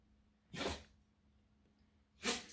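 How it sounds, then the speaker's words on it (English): Two short, breathy sneezes from a dog at home, about two seconds apart and fairly close, with near silence between them. "She made you sneeze?"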